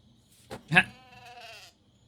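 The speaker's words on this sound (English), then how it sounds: "A lone sheep stands pitifully before us." A lone sheep in the video game In the Eyes of the Wolf gives one wavering bleat after a couple of short soft sounds, clear and close in an otherwise quiet scene.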